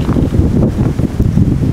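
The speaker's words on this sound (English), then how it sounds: "It's a little windy" Strong wind buffeting the microphone on a golf course, a loud low rumbling roar that gusts unevenly throughout with no talking.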